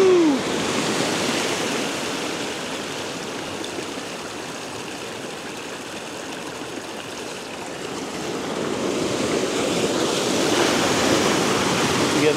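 Moving water churns and bubbles at sunrise beside rocks, giving a continuous broadband rush that swells slightly toward the end, steady and close with no talking.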